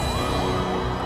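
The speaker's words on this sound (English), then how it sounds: "But at least one ambulance is still working in Paris." Ambulance siren wailing in a Paris street scene from a film, a continuous loud rising and falling tone filling the short moment on its own.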